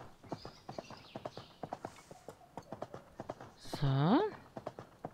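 Horse hooves clip-clop in a steady rhythm while riding through an indoor arena in the Horse World 3D video game, with a brief whinny near the end and a voice speaking briefly.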